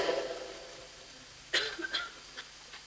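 A short cough bursts out after a stretch of faint background noise, followed by a couple of softer rasping catches.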